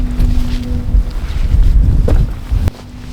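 Strong gusts of wind buffet the microphone beside a lake in the Norwegian outdoors, a loud, rumbling roar that rises and falls and then drops off sharply near the end.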